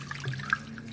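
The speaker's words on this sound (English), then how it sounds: "And then you're going to add your 4-cup water." Water running into a pot for vegan pasta, a brief light splashing trickle heard close and alone for about a second.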